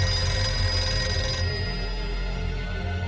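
A telephone rings steadily and loudly throughout, a continuous electronic bell trill over a low hum in an indoor drama scene, with no talking.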